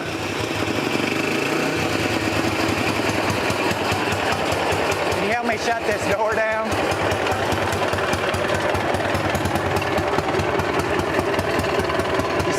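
A BMW Isetta's small engine, first start in 40 years after sitting in the woods, runs with a rapid steady knocking chatter throughout, loud and close, while a person speaks over it.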